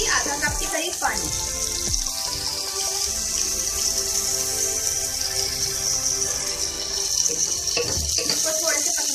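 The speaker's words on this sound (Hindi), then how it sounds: "अब मैं इसमें ऐड करूंगी आधा कप के करीब पानी" Half a cup of water goes into a hot pan of masala okra cooked with yogurt, giving a loud hissing sizzle and bubbling splash that fills the scene continuously, with someone talking faintly underneath.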